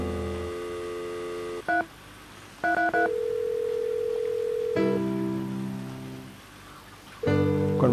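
Telephone keypad in the White Day video game being dialed: a steady dial tone, a few short separate key beeps, then a long held tone shifting pitch, closing with another loud tone burst.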